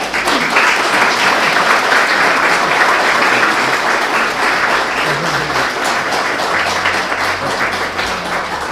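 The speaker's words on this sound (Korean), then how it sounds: "여러분 큰 박수로 모셔주면 좋겠습니다." A lecture-hall audience claps steadily and loudly to welcome the poet Na Tae-joo at a citizens' education lecture, a dense, sustained wash of applause filling the whole stretch without letup.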